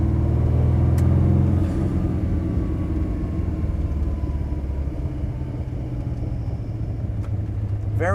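A car engine drones loudly from inside the cabin as the driver brakes and shifts down into second gear, the pitch dropping slightly after an early change, with a steady low road rumble throughout.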